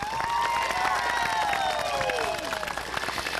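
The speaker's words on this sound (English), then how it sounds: "give a great round of applause for the Rotarians who are here" Applause at a school closing ceremony honouring visiting Rotarians: a steady wash of clapping from a crowd, with whistles and cheers rising over it throughout.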